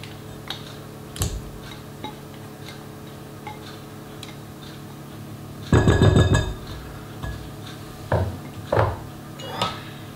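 Sugar, eggs and fromage blanc being mixed in a bowl, giving sparse clinks and taps of utensil on dish, with a louder scraping burst near the middle and a few more knocks after.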